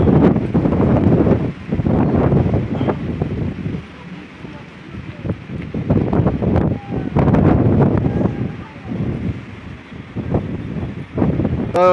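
Strong, cold wind gusts across the microphone on a mountain trail, a loud roaring buffet that rises and falls in surges, with brief lulls between, while a person talks intermittently.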